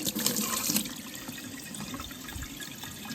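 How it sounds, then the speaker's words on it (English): Running tap water rinses coffee off handmade knives forged from an old horseshoe, a steady broadband splash that starts a bit louder and settles into an even, close flow. "I'm gonna rinse off all the coffee."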